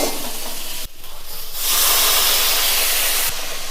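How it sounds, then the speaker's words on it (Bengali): A little water hits boiled potatoes frying in a hot pan: after a short sizzle and a brief pause, a loud steam hiss bursts out and holds steady before easing slightly. "আমি একটু জল দিয়ে দিলুম আলুটা তো সেদ্ধ আলু জল বেশি দেবো না"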